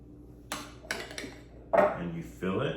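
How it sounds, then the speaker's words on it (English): Spoon clinking against a cup while Rüdesheimer coffee is stirred, a few short close metallic taps and scrapes separated by quiet gaps. "Give it a nice stir."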